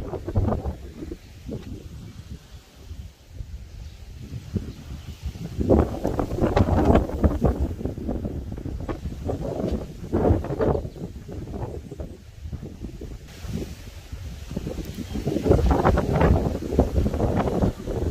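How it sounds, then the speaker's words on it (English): Gusting wind buffets the microphone on the Cornwall coast near Port Isaac, a continuous low rumbling roar that swells and fades in strong waves, with no talking. "It's a bit windy this morning."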